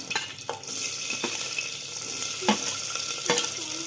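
Whole spices and onion sizzle in hot oil for a vegetable pulao: a steady frying hiss with several sharp scrapes and clinks of a spoon against the pan, close and alone.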